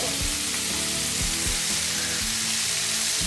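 Tomatoes fry in a hot pan for a green turkey berry (sundakkai) kuzhambu. A loud, dense, continuous sizzle fills the clip, broken by a few soft knocks, and nobody talks.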